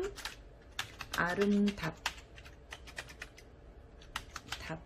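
Computer keyboard typing while entering text in an image editor: scattered, fairly close key clicks in irregular bursts, with a brief busier cluster early and a faint voice in the background.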